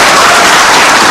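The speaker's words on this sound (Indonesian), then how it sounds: "Luar biasa, tepuk tangan untuk Pak Anas." Loud, dense applause from a television studio audience, a continuous wash of many hands clapping close and full for about a second.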